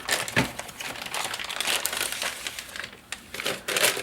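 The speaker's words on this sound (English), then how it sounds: "I'm going to take the tape off." Tape peels off a small AirTV 2 OTA DVR unit during unboxing, making close, loud crinkling and crackling bursts in an uneven run, with no talking.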